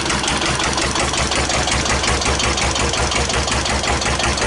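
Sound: 1941 Witte one-cylinder diesel engine running

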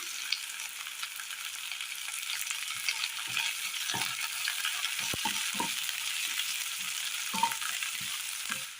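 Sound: green chilies frying with shallots for curry

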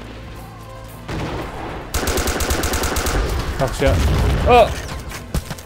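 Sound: gunfire in the video game Joint Operations Typhoon Rising

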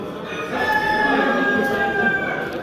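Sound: Ayam Cemani chickens crowing and clucking

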